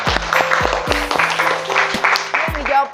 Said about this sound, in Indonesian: Tepuk tangan buat Melani.